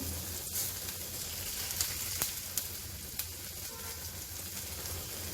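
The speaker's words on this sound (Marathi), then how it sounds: "आधी आपण कांदा परतो आणि नंतर मोहरी घालू कांदा आणि जिरं घालू" Onion sautéing in oil for spicy brinjal bharit, a soft, even sizzle with a few faint clicks of the spoon, close but quiet and without speech.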